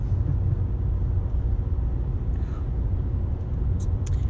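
A car on a drive gives a steady low road rumble close by throughout, with a couple of faint brief higher ticks near the end and no clear talking.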